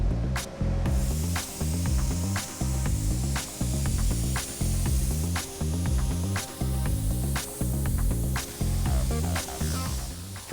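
A spray gun lays cappuccino-coloured paint onto an old Chevy truck in a paint booth, a steady hiss in repeated passes over background music.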